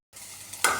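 Green chillies hit hot oil with garlic for a Kerala chicken stew, with a short sizzle and stirring that swells into a louder burst of frying.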